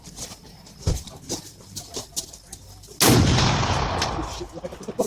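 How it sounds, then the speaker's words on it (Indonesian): Toy pistol firing, a sharp pop followed by a sustained loud burst of noise, after several seconds of scattered clicks and faint background sounds. "di sini kakak dapat mainan, yaitu sebuah pistol mainan teman-teman ya, pistol sekar namanya"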